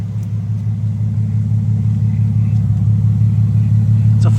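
A Lexus GX550 with a full stainless exhaust and twin turn-down tips idles with a steady, deep, smooth low rumble, loud and close and constant throughout, without revving.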